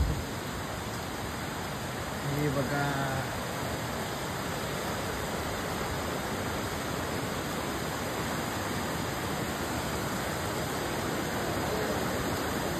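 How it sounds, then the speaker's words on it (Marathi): Steady broadband rush of the Saptalingi river flowing, continuous and fairly close, with a brief voice speaking early on. "इकडे आहे आपली सप्तलिंगी नदी"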